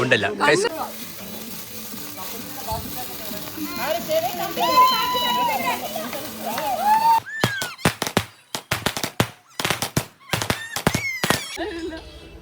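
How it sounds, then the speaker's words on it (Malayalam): Firecrackers burst at a Christmas celebration on a TV serial shoot location, a rapid string of loud, sharp bangs that follows a stretch of people talking. "ഞങ്ങൾ ഇനി ഗുണ്ട് പൊട്ടിക്കാൻ പോകണം."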